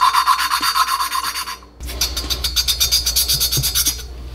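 Valves on a Honda GX270 (Predator 301cc) small engine are lapped against their seats, giving a steady rhythmic rasping grind, back and forth, that pauses briefly and resumes with a harsher, brighter scrape, close and alone.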